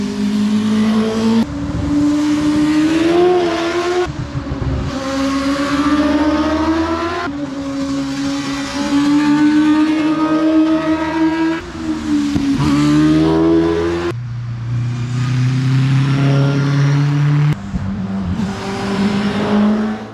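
Race cars at the Doune Hillclimb accelerate one after another, loud engines climbing in pitch through repeated gear changes, each run surging and cutting in rapid succession.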